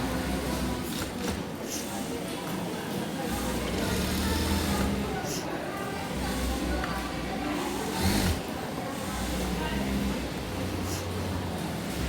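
A sewing machine runs a steady, whirring mechanical drone while stitching plastic onto full-length pants. The run is continuous and fairly loud throughout, with a person speaking over it.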